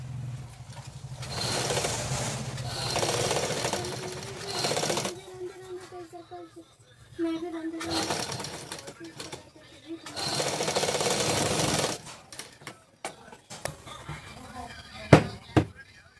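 A sewing machine stitches fabric for a garment in several whirring bursts, some long and some brief, with a voice talking in the pauses between runs.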